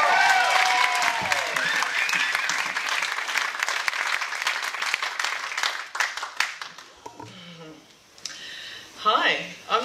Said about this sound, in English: Please put your hands together and give a big warm welcome to Lainie.